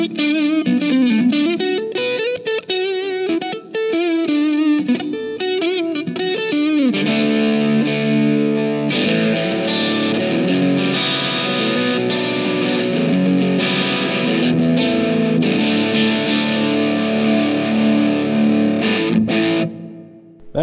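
An electric guitar in single coil mode played through a Movall Jumpspace overdrive pedal: a quick picked riff gives way to sustained, ringing overdriven chords, loud and close, with no talking.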